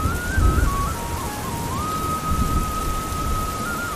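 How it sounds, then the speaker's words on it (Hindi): Steady rainfall with a dense wash of drops hitting surfaces, continuous and fairly close, with a faint thin tone running through it. "और लगातार 4-5 दिन तक बारिश होती रहती है।"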